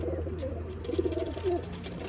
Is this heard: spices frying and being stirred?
no